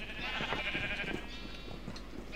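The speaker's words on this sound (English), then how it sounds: "That is a black sheep." A black sheep in the Minecraft video game bleats in a steady, wavering cry that carries through the whole short stretch over a faint background hum, with no talking.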